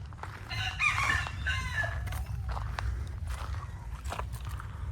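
Roosters crow repeatedly at a Murugan cave temple, their calls rising over a steady low rumble with a few clucks and scattered movement sounds, moderately near and without talk.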